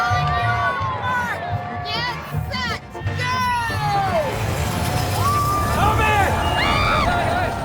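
Outdoor crowd at the Emma Crawford coffin race on a town main street, many people in costume: steady loud hubbub of adult and children's voices, shouts and cheers, with passing vehicles underneath.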